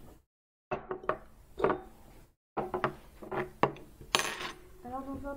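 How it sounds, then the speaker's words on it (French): A banana is cut into pieces in a bowl during a live science-club cooking demo, giving a series of close knife taps and clinks against the bowl, with a brief voiced sound near the end. "je mets la banane en morceaux dans un bol"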